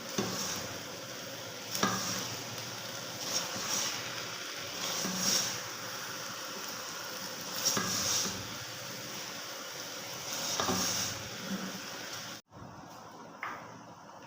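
Mutanjan sweet rice gets stirred and mixed in a pot, with repeated scraping strokes and soft sizzling in a loose rhythm, close by, ending in a sudden cut to quiet.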